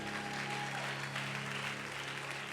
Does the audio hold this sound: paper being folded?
no